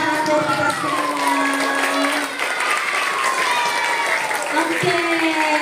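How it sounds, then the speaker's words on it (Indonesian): Schoolchildren at an elementary school anti-drug session clap together in sustained, close applause, with voices and shouts mixed over the clapping. "Tepuk tangan buat kita semua"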